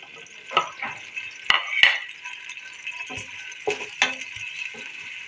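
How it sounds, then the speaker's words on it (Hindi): Finely chopped onions frying in ghee inside a pressure cooker give a steady sizzle, broken by several sharp scraping stirs and light metal clinks, fairly close and moderately loud with no voice. "इसको हम गुलाबी होने तक हम इसको फ्राई करेंगे।"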